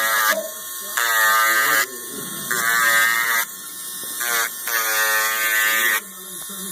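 Electric rotary tool filing and smoothing down thick, rough dentures, sounding as a loud high-pitched whine in repeated bursts of about a second each with short pauses between.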